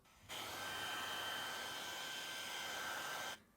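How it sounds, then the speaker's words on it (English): A hair dryer switches on, blows with a steady whirring roar for about three seconds, then cuts off. "I give them a quick blasting with the hairdryer,"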